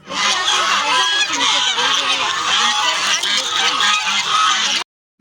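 A dense flock of ducks and geese at Karachi Zoo honks and quacks continuously and loudly, many birds calling over one another close by, before cutting off abruptly near the end.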